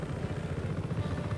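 A helicopter in the video game Just Cause 3 makes a continuous low rotor thrum with a steady pulsing beat, moderately loud and alone.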